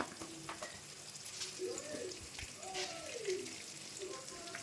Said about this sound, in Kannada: ಚೆನ್ನಾಗಿ ಎಣ್ಣೆಲಿ ಹುರ್ಕೋತಾ ಇದ್ದಾರೆ